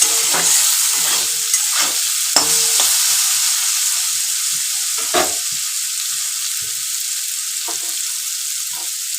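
Poppy seed paste frying in a pan with a little salt for a sweet pumpkin and potato curry, a steady close sizzle broken by several sharp scraping stirs.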